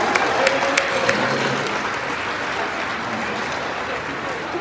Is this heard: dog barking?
no